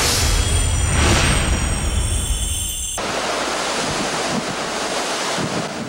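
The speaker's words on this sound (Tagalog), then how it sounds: "Humahagupit na hangin at bugso-bugsong ulan ang ipinaramdam ni Bagyong Nina sa Camarines Sur." Heavy wind roars and buffets the microphone while rain pours steadily, loud and continuous, briefly surging before easing slightly, during Typhoon Nina in Camarines Sur.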